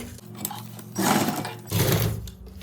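Sewing machine stitching buckram into a ready-to-wear saree belt, running in two loud bursts of steady mechanical whirring with a softer hum between them.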